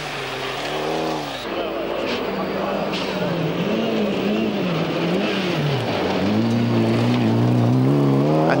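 A big Mitsubishi rally car's engine revs and sweeps up and down through the gears on a special stage of the 1989 1000 Lakes Rally in Finland, loud and steady under continuous commentary.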